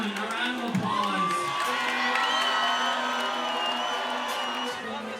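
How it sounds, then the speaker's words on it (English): An audience at a beard-growing competition cheers, whoops and shouts in a sustained burst of crowd noise, with a voice speaking over it. "Ladies and gentlemen, a round of applause."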